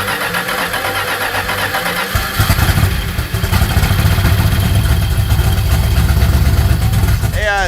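A Plymouth Road Runner C-body car engine cranks and fires, then settles into a loud, rough, lumpy running rumble close by, with voices talking over it.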